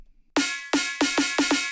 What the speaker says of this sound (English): I really freaking dig this neuro type snare